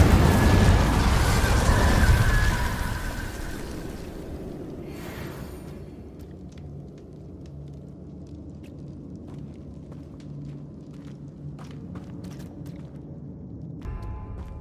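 A fiery Incendio spell blast from Hogwarts Legacy erupts as a loud, broad roaring burst over the first couple of seconds, then decays into a low rumbling crackle with scattered faint pops, and a small flare returns near the end.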